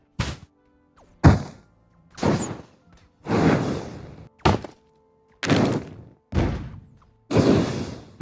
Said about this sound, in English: the remastered sounds when shooting a normal bullet, and shooting monsters, and finally shooting clouds